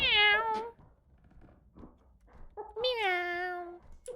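A person imitates a cat with two drawn-out, wavering meows, one at the start and one near the end, close and loud, with faint scuffling noises between them.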